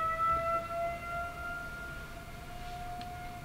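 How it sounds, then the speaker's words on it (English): An ambulance siren wails steadily at a distance, its sustained tones holding over low rumbling background noise, with no talking. "I guess it's an ambulance or something"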